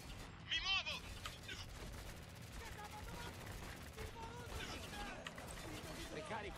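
Video game gunfire in Spec Ops: The Line, sustained rattling bursts of automatic weapons in a chaotic firefight, running under shouted Italian voice lines and battle noise.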